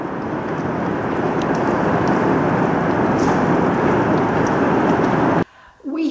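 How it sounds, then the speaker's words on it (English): A pea-size hailstorm over a planted homestead garden, a dense, steady hiss and patter of hailstones hitting surfaces that cuts off abruptly near the end, leaving a quieter moment with faint voice-like sound. "we're having a little hailstorm, but it's just pea size so far"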